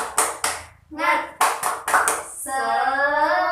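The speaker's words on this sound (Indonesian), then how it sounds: "Tepuk semangat." Children in a classroom do a rhythmic spirit clap, sharp clap bursts in a patterned beat alternating with chanted voices, ending in a longer sung call.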